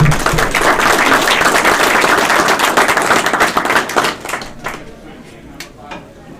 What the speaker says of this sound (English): But let's give him a nice round of applause one more time.